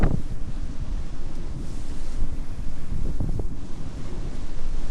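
Strong wind gusts roar across the microphone aboard a sailboat beating to windward at sea in 25 to 30-plus knots, with a continuous loud buffeting rush and breaking waves beneath.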